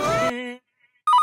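A mobile phone ringtone plays after a friend is asked to call, with a bright repeating electronic melody that begins after a brief silence and sounds close and loud.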